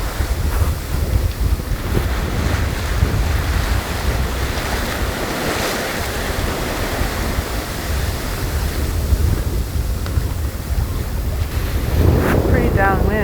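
Wind and breaking waves at sea rush loudly and continuously around a sailboat running through thick fog with reefed sails, steady buffeting throughout.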